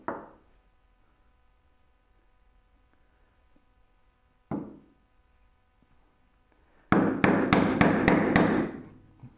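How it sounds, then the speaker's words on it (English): Chisel work on mortises for a Moxon vise in wood, two single sharp strikes with long pauses, then a fast burst of about six close mallet blows. "we are slowly cutting mortises"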